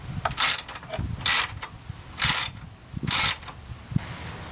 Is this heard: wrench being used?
yes